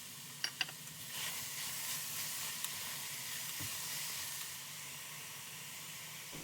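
Apples and blackberries drop into a hot pan of melted butter while making a British apple crumble, bursting into a steady, close sizzle and hiss after a couple of sharp clicks at the start.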